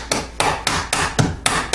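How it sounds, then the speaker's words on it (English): Rubber tip of a hammer tapping a nail back into place on a wooden casement window operator, seven evenly spaced dull knocks, close and fairly loud, with no talking. "I'm hammering with the bottom end of my hammer, the rubber tip, because I'm trying to not do any damage to the wood part."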